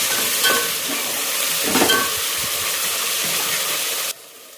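Chicken curry with turmeric being stirred in a hot pan, a continuous loud sizzle with spoon scrapes, cutting off abruptly near the end.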